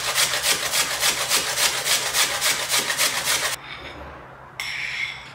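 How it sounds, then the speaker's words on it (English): Frozen watermelon slices, hard from the freezer, are rubbed against a grater in a quick run of rhythmic rasping strokes, close and loud, followed by a pause and one last short scrape. "I had watermelon slices saved up in the freezer and this way it becomes really hard and easy to grate."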